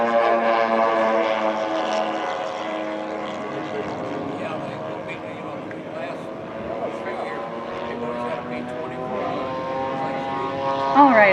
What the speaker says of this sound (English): lined up on final is John Cease from Wisconsin flying his B-25